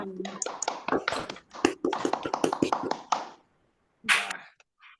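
Scouts in East Java perform the rhythmic tepuk pramuka scout clap, a fast, loud run of group hand claps in a patterned beat, followed by a brief pause and a final burst.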